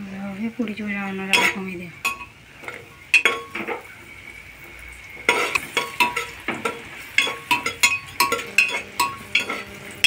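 A cashew mixture is stirred gently in a pan over low heat, the spoon scraping and clinking against the metal in a steady rhythm. There is a soft sizzle underneath, and a voice is heard briefly at the start.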